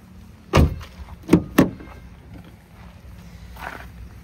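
A 2011 Maruti Swift VDI diesel hatchback's doors thump shut three times, one solid close followed by two quicker ones close together, nearby and fairly loud over a quiet background.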